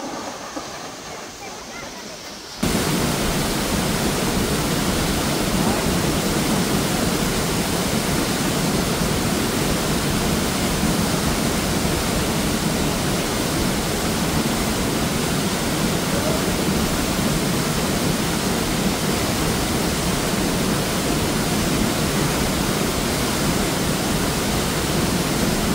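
Phungphungden waterfall in Taplejung, Nepal, swollen with monsoon water, roars with a dense, unbroken rush that starts suddenly after a quieter opening and stays loud and constant throughout.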